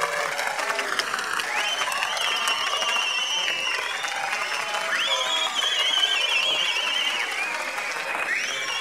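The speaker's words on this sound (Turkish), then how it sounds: "Alkışlar Firuzan Hanım için." Wedding audience applause and cheering for singer Firuzan Hanım, a dense, sustained roar of clapping with cheers, while high whistles and a melodic voice line glide over the crowd noise.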